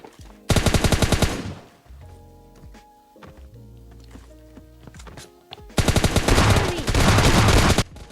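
Two long, loud bursts of rapid automatic S12K shotgun fire in PUBG Mobile Lite gameplay, separated by quieter game sounds, clicks and thuds.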